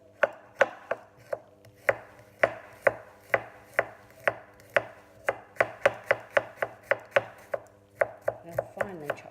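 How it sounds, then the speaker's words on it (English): A kitchen knife finely chops garlic on a cutting board, a brisk run of sharp, evenly spaced taps close at hand that continues steadily for several seconds without speech. "I'll finely chop the garlic."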